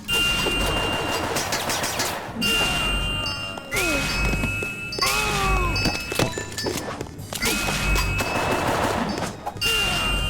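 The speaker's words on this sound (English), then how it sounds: "the gunshots do hurt" Video game gunfire with sharp shots and metallic impacts, mixed with electronic tones and effects, dense and continuous throughout.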